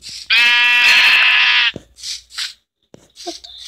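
A sheep bleats in a survival video game, one loud, sustained, harmonic bleat of about a second and a half, followed by a few short, faint rustling or footstep-like sounds.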